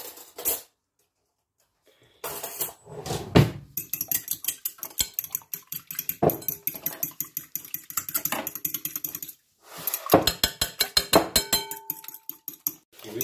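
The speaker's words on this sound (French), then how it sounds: "j'utilise une fourchette, un fouet électrique ou manuel pour battre mes œufs" A fork beats eggs in a bowl, giving fast, steady clinking and tapping of metal on the dish in rhythmic bursts, close and fairly quiet, with a short pause near the start and another partway through.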